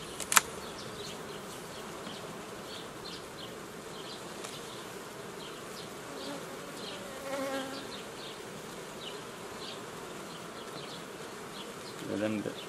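Honeybees buzz steadily around an open apiary hive during colony inspection, a continuous close insect drone that stays level throughout, with brief handling knocks near the start and end.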